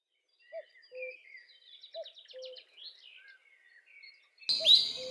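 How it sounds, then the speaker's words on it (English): Cuckoo calls ring out as a few short, soft low hoots spaced through the clip, mixed with faster higher chirps and trills from other birds, ending in a louder burst of calls. "Cuckoo calls are simple yet distinctive, often used for territory marking and mate attraction."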